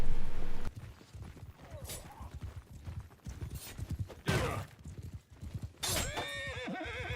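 Horses in the medieval battle game Bannerlord whinny and clop along in a skirmish match, hoof beats rolling in bursts amid clashing combat noise, with loud neighs rising near the end.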